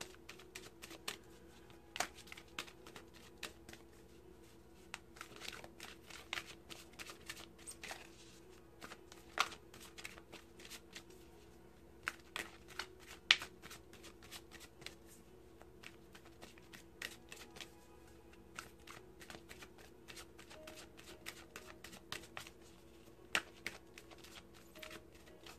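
A deck of oracle cards is shuffled by hand in a quiet room, giving faint, scattered clicks and soft riffling taps at an irregular pace.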